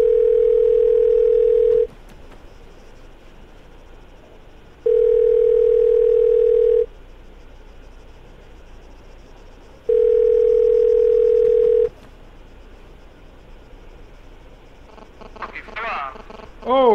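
A telephone dial tone in the Arma 3 video game sounds in three steady two-second bursts at regular intervals, clear and loud, with quiet background and a few short game noises near the end.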